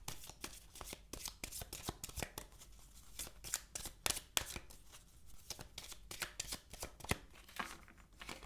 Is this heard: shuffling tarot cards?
yes